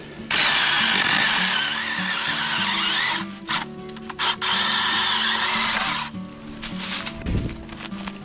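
Small battery-powered mini chainsaw cutting through brush and branches at a campsite cleared after falling trees: a loud, steady high-pitched buzz with brief dips and pauses near the middle and a short stop near the end.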